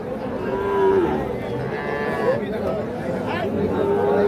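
At a busy cattle market selling small calves, young bulls and heifers, cattle moo several times, near and far, under steady crowd chatter and someone talking.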